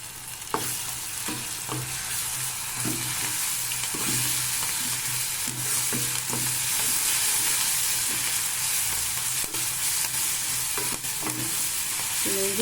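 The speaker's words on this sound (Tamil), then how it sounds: "இந்த இஞ்சி பூண்டு நல்லா பச்சை வாசனை போக வதக்கலாம்." Ginger garlic paste sautéing with onions in a pan for Tamil-style pepper chicken: a steady, close hiss of frying runs throughout, broken by repeated scraping and clacking strokes of a spoon stirring the mixture, with no talk.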